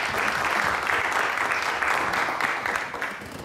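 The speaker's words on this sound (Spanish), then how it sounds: "les pido un fuerte aplauso para todas las personas que están auspiciando este evento" Audience applause at an event, steady dense clapping throughout that eases slightly toward the end.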